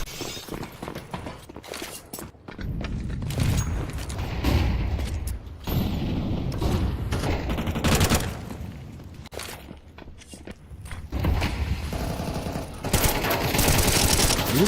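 Rapid gunfire bursts and sharp single shots in Counter-Strike on the Nuke map during a competitive match, dense and loud with brief pauses between exchanges.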